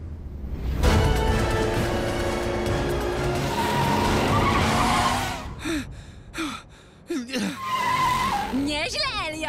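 Animated Hot Wheels Twin Mill car racing off with a roaring engine and long tyre squeals and skids, followed by shorter skids and whooshes as voices shout over the action.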